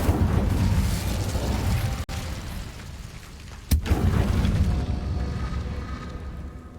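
A burst of fire from the Incendio spell in the video game Hogwarts Legacy, a dense roaring whoosh with a sharp pop partway through, set against steady game ambience.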